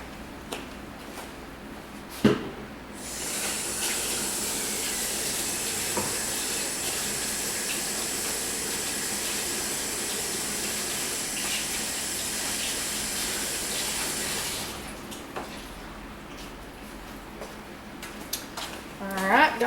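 Steady tap water runs into a sink for about twelve seconds while hands are washed, a continuous close hiss with a few faint clinks before and after.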